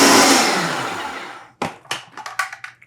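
A blender spins a rice-ball mixture with a couple of teaspoons of acid added, for crispy rice balls: a loud, close whir that winds down over about a second and a half, followed by a run of sharp knocks and clunks.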